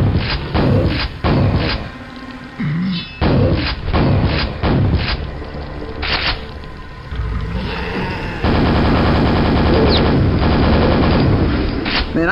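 Repeated gunfire from a Quake VR game, loud bursts and single shots with thumping impacts and booms, mixed with game effects and continuing steadily throughout.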